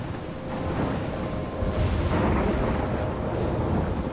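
Thunderstorm with rolling thunder and steady rain, a continuous loud broadband roar that swells midway, swirling around someone stranded near a lighthouse; no voices.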